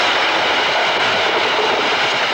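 Cotton mill machinery running in a loud, steady industrial roar, a dense continuous rattle and hum filling the space without pause and with no voices over it.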